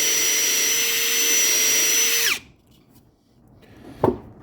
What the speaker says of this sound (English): the first thing we're going to do is drill a hole so we can go under the face plate